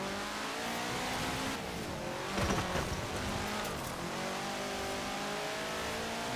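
A racing car engine in the video game Forza Horizon 4 drones steadily at high revs with shifting pitch and a brief louder surge midway, heard alone and close.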